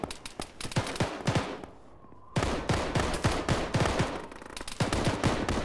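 Rapid gunfire in the Arma military shooter, with crackling bursts and overlapping shots from several weapons. A brief lull comes midway, then heavy volleys resume, moderately loud and close.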